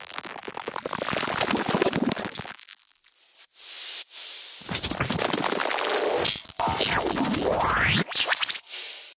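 A drum loop run through fractal effects in a remix bridge bursts as crunchy, static-like noise that cuts in and out in choppy sections, with sweeping filtered tones in the middle and abrupt stops.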